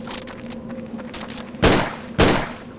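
Two loud, close gunshots from Tomb Raider: The Angel of Darkness ring out about half a second apart over a steady game backdrop with a low hum and faint clatter.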